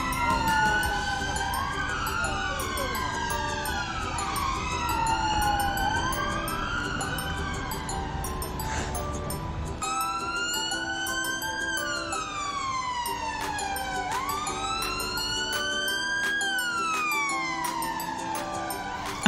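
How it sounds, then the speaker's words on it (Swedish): An ambulance siren wails loudly and steadily throughout, with rising and falling sweeping tones that shift pattern midway, heard alone without talk. "Ambulans."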